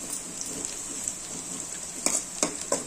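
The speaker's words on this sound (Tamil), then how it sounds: "வெங்காயம் நல்லா வதங்கிருச்சு." Onions sautéing in a pan on a home stove give a soft, steady sizzle and faint crackle, with a few sharper spatters near the end and no talk.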